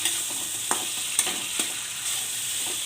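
Spices sizzle steadily in a pan for a drumstick and coconut curry, with a few sharp spoon scrapes and taps of stirring breaking through the constant close frying hiss.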